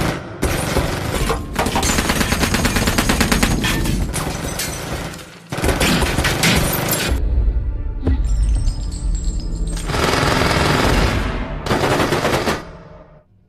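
Film gunfire rings out in a prison shootout, with long bursts of rapid automatic fire and heavy booms, loud and close, broken by brief pauses and a mechanical clatter.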